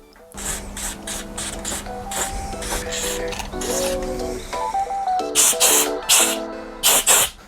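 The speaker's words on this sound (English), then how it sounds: "So this is good for protecting battery terminals and casings, so give this a bit of a spray down." Repeated short hissing bursts of an aerosol corrosion protectant sprayed onto an e-bike's battery terminals and casings, several quick pulses, with a steady mechanical hum and tonal whine underneath.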